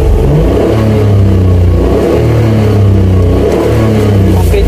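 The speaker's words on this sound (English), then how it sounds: "Now we are doing our pedal pumping." A manual car's engine revs repeatedly as the gas pedal is pumped, a loud, steady mid-pitched drone that rises and falls in waves for several seconds without talk.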